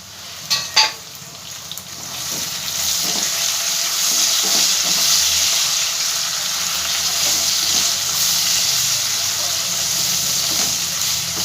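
Onion frying in a pan with capsicum tossed in, a few loud clatters at first giving way to a steady close sizzle with light stirring.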